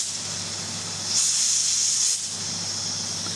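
A kitchen appliance vents steam pressure: a steady background hiss swells into a louder, sharper jet of hissing for about a second, then drops back to the lower hiss, with no talk.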